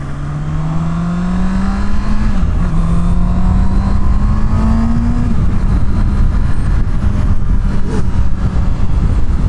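A Honda CB650R 650cc four-cylinder motorcycle pulling away in first gear, its loud, smooth engine note rising steadily, dropping briefly at each upshift, then climbing again, heard close against wind rush.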